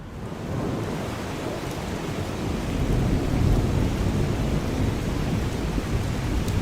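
Steady heavy rain falls during a nighttime thunderstorm, a dense continuous hiss layered over a low rumble that swells to a louder, sustained roar about halfway through, with no voices.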